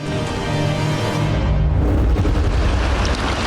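Heavy explosions at sea as the Russian landing ship Tsezar Kunikov is struck near Crimea in the Black Sea, a loud continuous low rumbling boom that swells and persists throughout with no speech.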